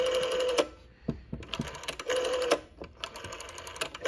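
The rotary dial of a 1967 LM Ericsson Dialog telephone whirs back repeatedly, producing rapid clicking pulse trains with short pauses between them, close and clear.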